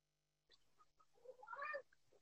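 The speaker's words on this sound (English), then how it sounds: "do you hear my cat?" A distressed house cat meows faintly indoors: a few small chirpy sounds, then a drawn-out rising and falling meow, with a short trailing call after it.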